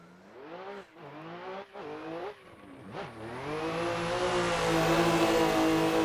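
Rad Dan's Formula Drift Supra in a racing video game, engine revving in sharp bursts with gear-change dips, then rising into a sustained loud wail with tyre noise as the car drifts, alone with no voices.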